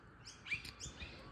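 Birds chirp in the early morning in a backyard, a few short bright tweets in quick succession, faint and close-ish with quiet background hiss.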